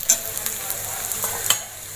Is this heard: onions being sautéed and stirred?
yes